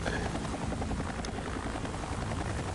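Helicopter in the survival horror game Resident Evil 4, a loud continuous rotor roar with dense rumbling texture that stays steady throughout.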